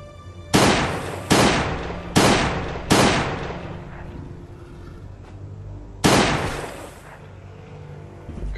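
Pistol gunfire in the zombie survival game Last Day on Earth, aimed at caged enemies: four sharp, loud shots in quick succession, a pause, then one more, each with a short decaying tail.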